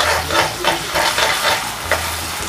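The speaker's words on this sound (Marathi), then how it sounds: "व्यवस्थित परतून घ्यायचे आहे" Onion and ginger-garlic paste sautéed in a pan, close up, giving a loud hissing sizzle with rhythmic stirring swishes about every half second, no voices.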